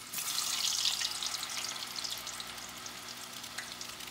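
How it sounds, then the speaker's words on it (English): Cut potatoes for homemade French fries fry in hot oil, a dense, steady bubbling hiss that swells at the start and then holds level, close and moderately loud with no talking. "Now we're going to fry this one."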